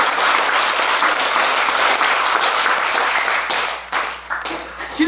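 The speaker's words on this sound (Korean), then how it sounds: "맞으면 박수 한번 칩니다" A crowd at a Buddhist talk bursts into loud, full applause that holds steady, then thins to scattered claps and fades near the end.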